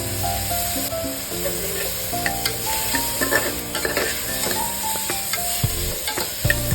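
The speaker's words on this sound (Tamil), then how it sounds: "ஒரு 2 நிமிஷம் நல்லா வதக்குங்க" Chopped broccoli with a little coriander leaf sautéing in a pan for baby food, a steady close sizzle with frequent spoon scrapes and stirring clinks throughout, no talking.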